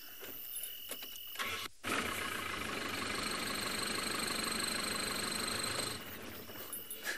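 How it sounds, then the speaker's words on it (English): A safari vehicle's engine cranks and catches, then settles into a loud, steady idle close by, with a brief drop before the engine fires and no talking. "I'm actually going to start the car just to make them go away."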